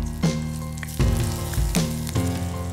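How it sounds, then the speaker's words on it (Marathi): Green chillies, cumin and garlic fry in hot oil in a wok, a loud close sizzle that flares in sharp bursts as ingredients hit the pan, with a steady crackling hiss in between. "कढई, त्यामध्ये हिरव्या मिरच्या थोड्या तेलात परतून घ्यायच्या"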